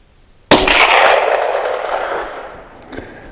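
A single loud, sharp crack from a classic .22 long rifle firing CCI Stinger ammunition, hitting abruptly and then trailing off in a fading ring over a few seconds. A second faint click follows near the end.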